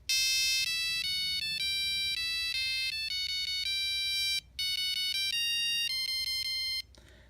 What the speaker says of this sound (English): I actually had the Simpsons theme on this phone as well. So let's actually play it.